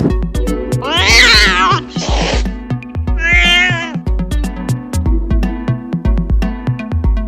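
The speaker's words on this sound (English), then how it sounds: "Cat." A cat meows clearly and repeatedly, three drawn-out rising and falling cries close to the listener, with a steady rhythmic background pulse and no talk.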